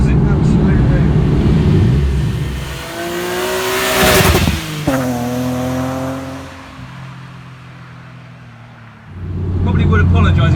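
Inside a Jagermeister-liveried BMW E36 M3 road and race car, a loud engine drone rises and falls through revs and gear changes, with someone talking over it.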